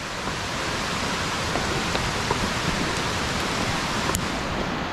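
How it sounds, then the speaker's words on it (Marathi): Heavy rain near a waterfall pours down as a loud, dense, unbroken hiss, steady and close with no voices. "पाऊस आलाय भावानं बहुतेक मोठा,"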